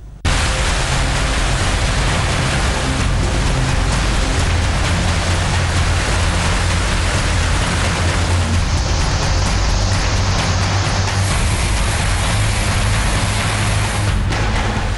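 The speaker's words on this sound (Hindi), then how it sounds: "आसमान से बरसी मूसलाधार बारिश के बाद नदी की लहरें बेकाबू होकर उफान पर हैं।" Heavy torrential rain pours steadily during flooding in Uttarakhand, a loud, dense, unbroken hiss and roar lasting throughout with no voices.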